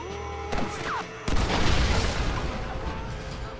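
Explosions in the video game Red Dead Redemption go off as a sharp boom, then a second heavier blast that spreads into a long rumbling roar, fairly loud against the game's background sound.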